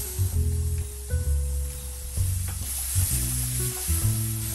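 Fresh tomatoes go into a pan of sizzling caramelized onions for egg bhurji, and the frying hisses loudly and close, with bursts of stirring and scraping every second or so and no talking.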